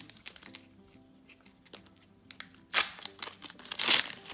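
Pokémon card booster pack being opened by hand, with quiet crinkling and rustling of foil wrapper and cards that rise to two louder, sharp crinkly tearing bursts near the end.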